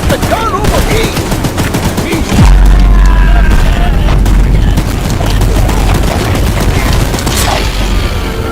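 A mounted gun in the video game Choo Choo Charles fires in rapid continuous bursts, loud and close, layered with deep booms and rumbling, with shouting voices in the mix.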